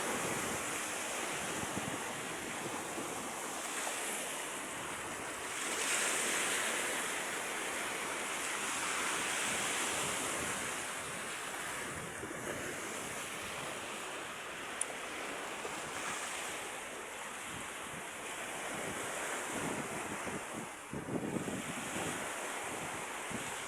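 Waves wash steadily onto the shore at the mouth of the Aklan River, a constant broad surf hiss mixed with wind rush, fairly even and uninterrupted.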